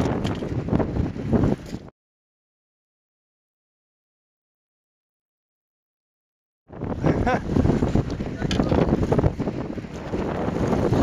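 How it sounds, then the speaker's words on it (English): Strong wind on a lake roars and buffets the microphone in heavy, continuous gusts. The noise cuts out completely for several seconds, then returns just as loud. "The wind is just awful today"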